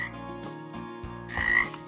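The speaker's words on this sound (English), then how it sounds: "I think it sounds like a frog" A frog croaks repeatedly in a steady, throbbing run of raspy pulses, fairly close and clear, with no talking over it.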